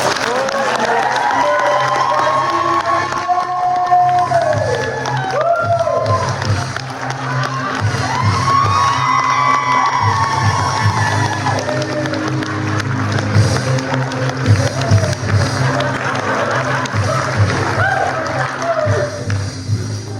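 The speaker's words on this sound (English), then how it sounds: "Let's get a big round of applause." A room full of people at a self-improvement event cheering, shouting and clapping for about twenty seconds, loud and continuous, with voices mixed through the crowd noise.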